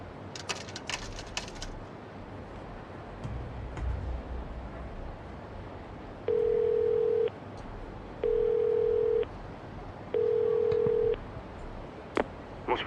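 A payphone in the video game Yakuza 0 sounds three steady, evenly spaced telephone tones, each about a second long, over a quiet ambient game background with faint clicks.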